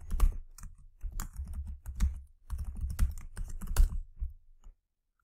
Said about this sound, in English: type my password